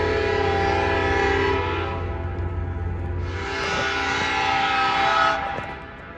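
An Alaska Railroad passenger train passes close by, its loud sustained horn blaring in long blasts over a heavy rumble, then fading slightly at the end.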